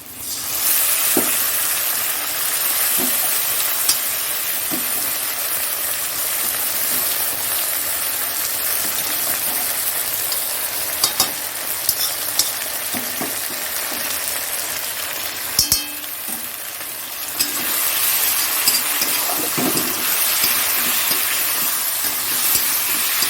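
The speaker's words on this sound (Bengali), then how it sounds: "আর একটু আদা বাটা রসুন বাটা দিচ্ছি" Ginger and garlic paste frying in hot oil for ghugni gives a steady, close hiss and sizzle that runs the whole time, broken by a few light clinks of a utensil against the pan.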